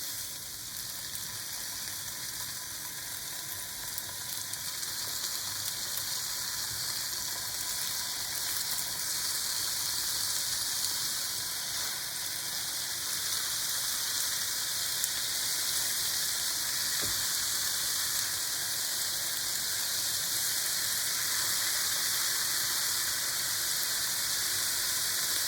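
Cod fillets fry with bacon in a pan, giving a steady, continuous sizzle that holds at an even loudness throughout, with no talk over it.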